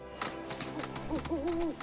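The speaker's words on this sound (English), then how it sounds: "It's a very shiny looking red bird." A shiny red bird calls in the video game Final Fantasy VII Rebirth, giving a few soft, wavering hoot-like notes over a low game background, with the clearest call near the end.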